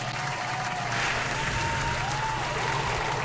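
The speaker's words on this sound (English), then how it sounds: "Please put clapping and applause here." Steady applause and clapping, a continuous dense wash of many hands under a faint wavering tone, even in loudness throughout.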